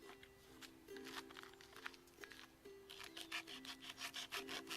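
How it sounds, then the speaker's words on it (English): A survival knife's serrated back spine saws back and forth, giving quiet, rhythmic rasping strokes that speed up toward the end, with a faint steady hum in the background. "It does have a serrated back spine for sawing."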